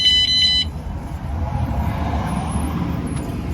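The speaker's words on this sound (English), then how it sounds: "I'm just going to set the alarm again." A van's Vanguardian security alarm being set by remote: a short, high electronic double-beep chirp at the start, followed by quiet low road and traffic rumble.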